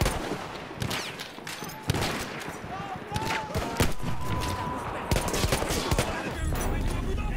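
Battlefield 1 gunfire: bursts of shots and scattered cracks recur through the clip amid a dense, busy battle din, with a voice talking over parts of it.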